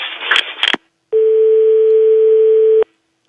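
Steady telephone ringback tone heard through a mobile call being placed to a pharmacy, a single long continuous beep following a brief burst of noisy handling at the start, then silence.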